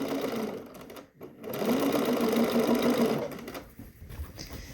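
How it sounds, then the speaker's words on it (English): A sewing machine stitches steadily around a dress hem with a rapid mechanical whir, pauses briefly, then resumes before slowing near the end. "this is a regular stitch length. So I'm just going all the way around the hem."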